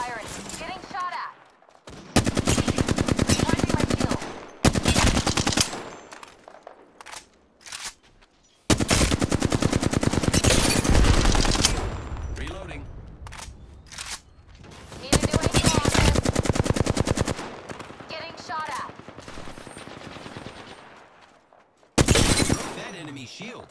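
Gunfire in a shooter video game comes in long, loud automatic bursts separated by brief pauses, with close, dense fusillades repeating across the stretch.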